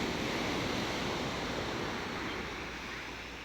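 Steady broadband wash of sea waves on the coast of Taiwan, soft and fairly distant, slowly fading over a few seconds with no voices.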